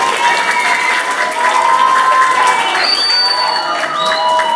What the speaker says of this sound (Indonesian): Ayo kasih semangat ya, tepuk tangan yang mulia.